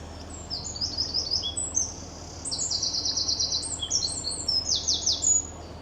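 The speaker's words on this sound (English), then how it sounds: "Oh, beautiful bird." Bird song beside a canal, seen from a narrowboat: high, bright chirping phrases repeat steadily over a faint outdoor hiss, fairly close and clear, with no one speaking.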